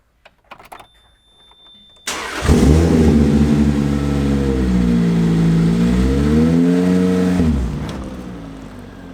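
After a few faint clicks and a quiet pause, a Lotus Exige S sports car engine starts with a sudden loud roar, then holds a rising and falling rev for several seconds before easing off, heard close with no talking.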